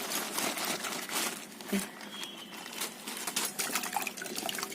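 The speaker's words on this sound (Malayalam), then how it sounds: "ഇത് നമുക്കിനി വെള്ളത്തിലേക്ക് ഇട്ട് കൊടുക്കാം" Chinese potatoes (koorka) tipped into a vessel of water for washing, giving splashy, sloshing water noise with light rattling and scraping, close and continuous.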